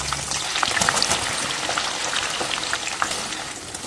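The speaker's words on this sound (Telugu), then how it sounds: "గోల్డెన్ కలర్ వచ్చే వరకు బాగా వేసుకోండి." Sliced onions fry in oil in a pan for biryani, giving a dense, continuous crackling sizzle close up, with no voices.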